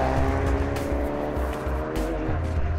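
A Ford Focus RS drives along the Blakey Ridge moorland road in North Yorkshire, its engine droning loud and close with shifting pitch and a few rising and falling surges as it accelerates and changes gear.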